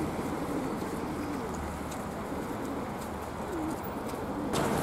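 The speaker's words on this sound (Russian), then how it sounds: "Голуби едят." Pigeons coo softly and repeatedly in the open near a church, their low, rounded calls set against a steady wash of outdoor background noise.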